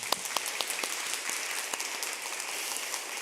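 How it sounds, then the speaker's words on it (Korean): A church congregation at a Korean Presbyterian Sunday service in Detroit claps in blessing for two newly welcomed members, a steady, moderately distant patter of many hands with scattered sharper claps standing out, continuing without a pause. "축복의 박수 해주시기 바랍니다."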